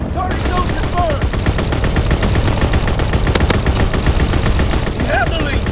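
Machine gun fire from an aircraft ball turret in Call of Duty: WWII, a loud, continuous rapid-fire stream close up, with a radio voice speaking over the shooting.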